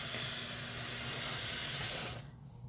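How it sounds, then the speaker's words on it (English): Steam hissing steadily from the valve of a pressure cooker making shredded chicken for tacos: a loud, broad, continuous hiss that runs for about two seconds and then cuts off abruptly, leaving a low residual hum. "So don't worry about it if you see steam coming out of it a little bit."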